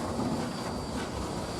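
A steam train engine pushes passenger cars backwards along the Animas River toward Silverton, Colorado, giving a steady low rumble and rolling rail noise that stays even and continuous, with no talk over it.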